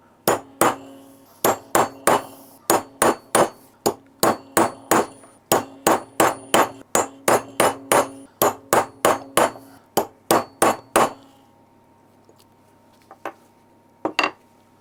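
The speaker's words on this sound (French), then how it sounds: "tu prends un pointeau et un marteau et tu le marques ici pour plus qu'il" A hammer strikes a centre punch to mark a part while fitting ST2 944 cylinders on a Ducati 900 motorcycle: about thirty sharp, close metallic taps in a steady quick rhythm, then a pause and a couple of final taps.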